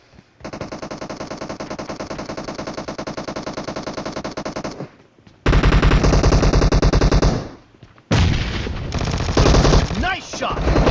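Sustained automatic gunfire from UZI and Vector submachine guns in the battle royale game PUBG, a few long loud sprays separated by brief pauses, with faint voices in the background.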